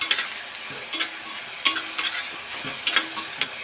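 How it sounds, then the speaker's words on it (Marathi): Onion sautéing with salt in a pan for a Kolhapuri chana dal dish, giving a steady soft sizzle broken by several sharp scraping stirs at irregular intervals, close and fairly quiet with no talk. "चांगला गुलाबी रंग होईपर्यंत आपण कांदा परतून घेणार आहोत"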